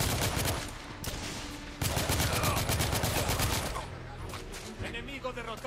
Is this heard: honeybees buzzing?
no